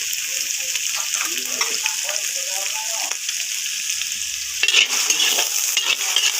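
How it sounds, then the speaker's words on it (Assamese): Garlic and onion fry together in hot oil, a steady, close hiss and crackle of sizzling that continues throughout, with faint stirring and utensil scrapes mixed in. "এতিয়া তেলখিনি গৰম, এতিয়া নহৰু আৰু পিঁয়াজ একেলগে দি দিছে"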